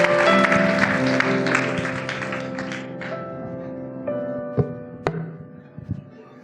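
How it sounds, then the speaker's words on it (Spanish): Congregation clapping in a church service, a dense wash of applause that thins and fades over several seconds, with sustained music tones underneath and a few sharp isolated claps near the end. "Dele una ofrenda de palmas al Señor"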